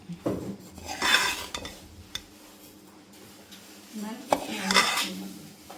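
Semolina (rava) roasting in a pan while a utensil stirs it, giving repeated close scraping and clinking strokes of metal against the pan in two clear bursts, with softer rustling of the grains in between.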